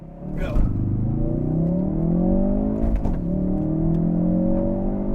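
A Ford Focus RS MK3 launches hard from about 3,000 rpm, its engine climbing in pitch with a loud, close roar, a brief break at a gear change, then rising again as the car pulls on toward 60.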